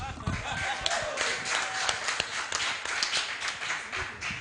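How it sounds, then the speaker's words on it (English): A crowd clapping at a Twitter conference in Ekiti, with dense, steady applause from many hands that stays loud throughout, with a faint voice underneath. "Please clap for me"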